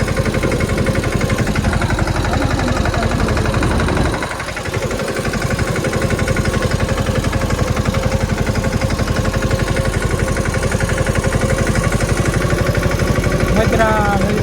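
A farm tractor engine, used for cultivating a cotton field, runs with a loud, steady, throbbing rumble throughout. The sound dips briefly for a moment and then carries on evenly.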